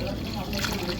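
Water pours into a pressure cooker holding two potatoes, a steady close trickle and splash lasting about a second.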